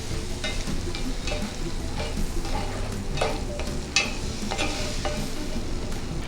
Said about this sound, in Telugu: ఒక్క నిమిషం ఈ ఉల్లిపాయ పేస్ట్ని వేగనివ్వాలి